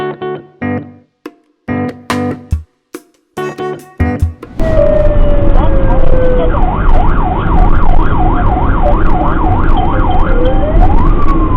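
Loud wailing ambulance siren recorded from a dashcam, sweeping up and down in rapid cycles close by after a stretch of choppy intermittent road noise, with a steady engine and traffic rumble underneath.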